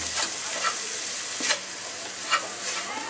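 Chhana cooks in a pan with flour and powdered milk, giving a loud, steady sizzle close by. A few soft scrapes from the stirring utensil come through at intervals.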